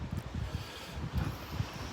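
Gusty wind buffets the microphone in low rumbling bursts on an outdoor walk through a village, steady and fairly close with no voices.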